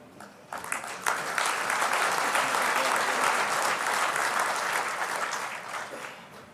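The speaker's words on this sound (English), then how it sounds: "Let's give them all one more round of applause." Audience applause after an opening speech at the 2011 H2O-XPO, a steady, dense wash of clapping that swells quickly and holds loud throughout, with faint crowd noise mixed in and no speech over it.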